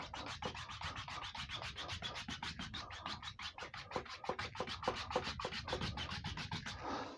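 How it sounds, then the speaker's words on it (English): Palette knife scraping oil paint across a still life canvas in steady, rapid rasping strokes, close and continuous with a rhythmic scratchy texture throughout. "Scrape a load of paint on here."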